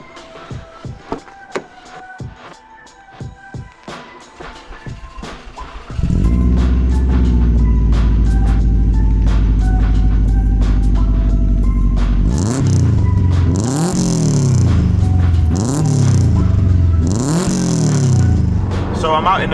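A Subaru 22B replica starts and idles with a loud steady rumble, then revs hard through repeated rising and falling pulls as it drives off, close to the cabin.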